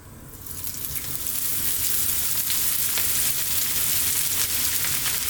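Onions sizzle and fry loudly in a big pot after olive oil goes in, a steady bright crackle that builds over the first second and then holds alone without talk.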